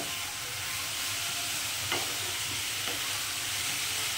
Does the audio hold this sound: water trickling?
no